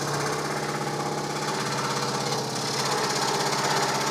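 A scroll saw cuts fretwork with a continuous close buzz of rapid blade strokes, the loud reciprocating chatter holding steady as the blade works around a sharp corner.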